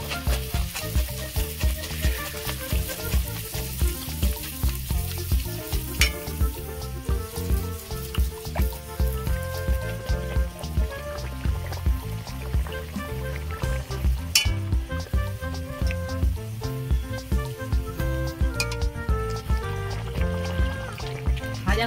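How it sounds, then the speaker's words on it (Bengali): Pea kachori deep frying in a pan of hot oil, a steady loud sizzle and bubbling throughout with occasional clinks of a utensil, no talking. "এইভাবে আমি সবগুলো ভেজে নেব"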